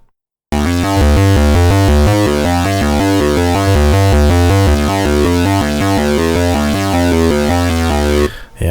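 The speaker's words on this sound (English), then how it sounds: "Yeah, you hear this wobbling sound. It's it gets a bit snarly." A dense, loud Korg synth pattern with a swirling, wobbling stereo-flanged, snarly character, sustained steadily for several seconds before cutting off.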